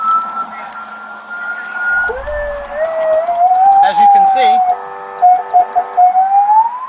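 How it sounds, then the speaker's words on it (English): Police-style siren from a light box fitted by a police impersonator, a wailing tone that sweeps up and down, then switches to fast alternating yelps, loud and close while someone talks over it. "it has a functioning siren to go with the lights, alternating sirens"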